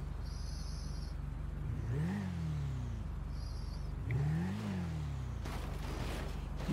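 A motorbike in a motocross video game revs in two rising and falling bursts, a quiet whirring engine sound with soft game tones in the background and no talking.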